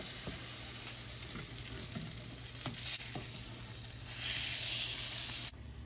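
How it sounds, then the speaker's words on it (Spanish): Soaked bread for French toast frying in a pan, a quiet, steady sizzle with occasional soft scrapes and knocks near the pan. "Mojamos otro pan y lo ponemos en el sartén"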